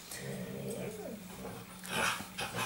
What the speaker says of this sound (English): The noise in the background is the dogs kicking off again.